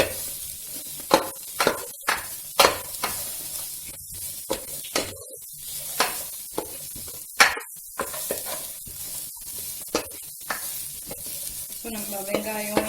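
Small diced carrots frying with onion, ginger, garlic and green chilli, a bright, loud sizzle punctuated by irregular stirring knocks and scrapes of a spoon in the pan, heard up close.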